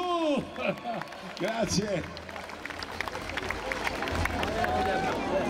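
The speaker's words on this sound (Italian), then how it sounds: "Un grande applauso a Totò" Concert crowd in Campofelice di Roccella applauding a band, dense sustained clapping that builds and holds, with someone speaking over it at the start.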